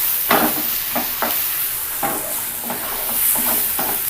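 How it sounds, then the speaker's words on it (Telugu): Ground tomato coriander chutney cooks in a hot tempering pan, a steady sizzle broken by irregular scraping stirs, close and moderately loud, with no talking. "ఇప్పుడు మనం ముందుగా నూరి పెట్టుకున్న ఈ పచ్చడిని వేసుకొని ఈ పోపులో ఒక్క నిమిషం బాగా కలిపి ఉడకనివ్వండి"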